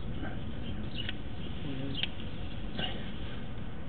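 A toilet tank refilling after a flush, a steady muffled rushing hiss of water with a few faint squeaks and ticks, close by and continuous with no voices.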